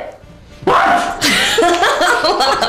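A trained penguin sneezes on command in a studio, giving a sharp burst that is followed by loud applause and cheering from the audience.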